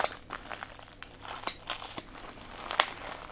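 Close crinkling and crackling of plastic packaging as an Epson printer resetter is unwrapped, with irregular sharp crackles and rustles and no talking.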